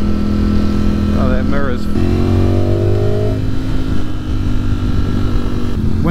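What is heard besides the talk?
motorcycle ridden, Ducati Streetfighter V4 or Aprilia Tuono V4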